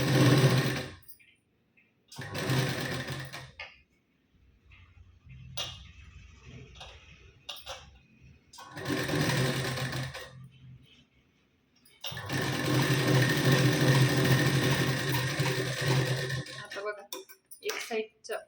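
Sewing machine stitching a double seam along a blouse sleeve, running in several bursts of quick, rattling stitching separated by pauses, close by, with someone talking in between.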